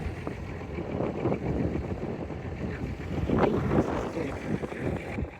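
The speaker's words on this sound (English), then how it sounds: "this wind is crazy" Strong mountain wind buffeting the microphone, a rough, gusty low roar that swells and eases over several seconds, fairly close and loud, with no speech over it.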